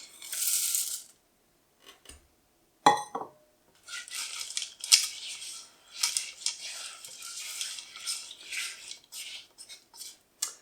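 Sugar and chocolate stirred in a pan for brownies, heard as a steady run of scraping, clinking utensil-on-metal strokes with a sharper knock near the start, fairly close and with no talking.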